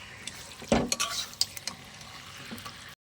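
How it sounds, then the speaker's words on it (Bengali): A spoon stirs mutton curry in a pot, with scraping and clinking strokes over a soft sizzle, close and moderately loud, ending abruptly in silence. "দেখো, এইভাবে আমি নাড়াচাড়া ভালো করে নিয়ে আমি একটা পাত্র দিয়ে এটাকে ঢেকে দেব"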